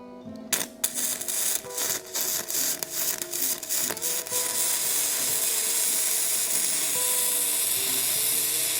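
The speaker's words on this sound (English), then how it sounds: "I'm gonna weld all the way around this bar until it stops or I'm finished welding at full power" An arc welder at full power runs around a metal bar with a loud, close, continuous crackling hiss. It starts with choppy sputtering bursts and settles into a steady roar that holds to the end.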